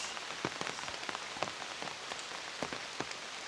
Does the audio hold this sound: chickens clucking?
no